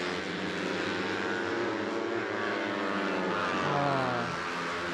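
CP150 cub motorcycles race through qualifying at a motor circuit, a continuous loud engine drone with a rising whine as a bike passes close by.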